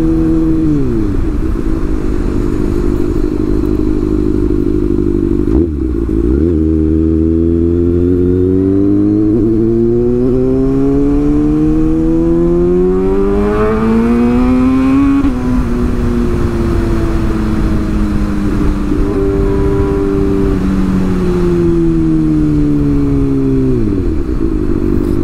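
Motorcycles and cars rev close by at a Sunday-morning motorbike festival in Lampung with hundreds of bikes, engines loudly rising and falling in repeated sweeping pitches throughout, with no talking.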